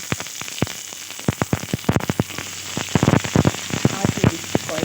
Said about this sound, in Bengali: এবার একটু ভালোভাবে নেড়ে চেড়ে ভেজে নেব